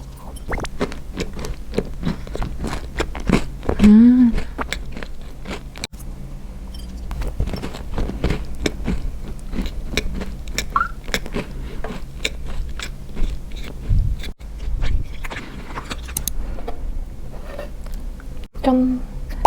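Someone bites and chews the crusty end piece of bread up close, with repeated soft crunching and mouth sounds throughout and occasional brief murmured sounds of enjoyment.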